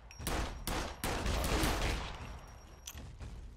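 Gunfire striking the player in the survival game Scum, loud bursts of shots landing close in a dense, sustained volley, then a short final burst near the end.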